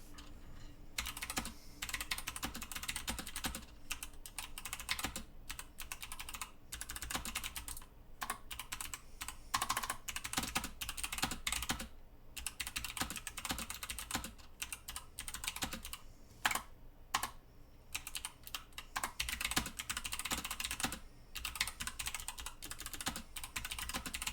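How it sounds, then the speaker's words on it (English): Typing on a mechanical keyboard during a typing test produces a continuous, close clatter of keystrokes, brisk and uneven, lasting over twenty seconds with no talking. "I'm just going to do a quick typing test."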